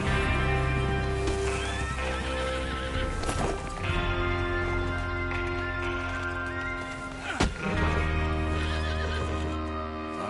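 Several horses whinny loudly and clip-clop nearby in the Western video game Red Dead Redemption 2, with repeated neighs rising over the ongoing hoofbeats and game music.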